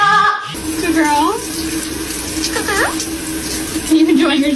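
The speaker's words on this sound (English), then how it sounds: "Are you enjoying your shower?" Water sprays steadily as a shower for a pet bird, a continuous hiss broken by several short, rising chirps from the bird.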